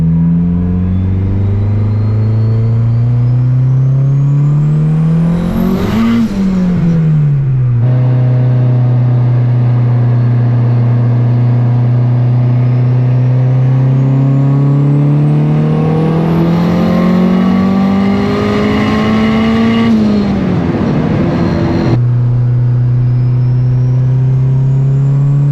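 A built turbo single-cam Honda Civic on over 20 psi of boost cruises and accelerates, its loud engine climbing in pitch through long pulls with shifts between them, close up and with no talking.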